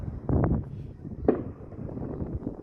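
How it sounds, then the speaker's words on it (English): Fireworks at midnight on New Year's Eve, heard outdoors. A few distant pops and one sharp crack come through wind noise, and there is no talking. "I'm hearing lots of fireworks."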